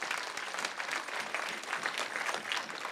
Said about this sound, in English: can we clap for each other and for ourselves?